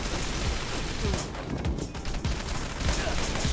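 Gunshots in the video game Wanted: Dead, a rapid, dense burst of shots and impacts, loud and continuous across the moment, with a voice talking over it at times.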